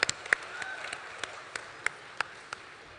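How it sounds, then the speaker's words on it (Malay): Scattered, faint claps for a singer at a frontliners appreciation ceremony, around a dozen isolated hand claps spread unevenly over a few seconds against a quiet hall. "Sekali lagi tepukan yang gemuruh kepada Syamel."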